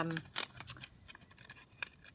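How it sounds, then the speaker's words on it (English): Zigzag scissors chop across the top of a bag in a few sharp snips, close and fairly quiet, with brief handling rustles in between. "now I've got my zigzag scissors here, so I'm just going to chop across the top of the bag"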